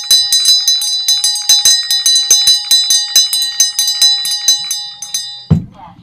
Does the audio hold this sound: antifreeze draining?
no